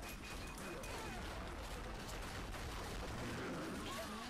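Grenade blast in the zombie shooter Dead Nation, a dense, continuous roar of explosion and gunfire-like crackle filling the whole stretch at steady loudness, with no clear single boom standing apart.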